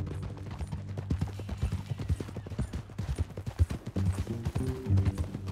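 Horse hooves clip-clop in a steady, uneven rhythm through Red Dead Redemption 2, close and fairly loud, with game music and ambience underneath.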